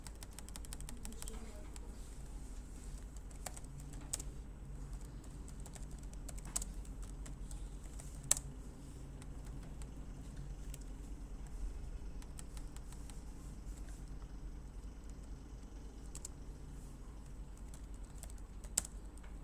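Quiet typing on a computer keyboard, a sparse run of soft key clicks with occasional sharper taps over a low room hum, with no talking.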